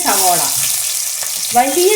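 Sliced onion sautés in hot oil inside a pressure cooker, a loud, continuous crackling sizzle with the occasional stir, while someone talks over it.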